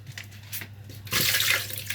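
Water is poured into cut lemons and sugar for homemade lemon juice, starting as faint trickles then becoming a louder steady splashing pour in the second half, close by with no talking.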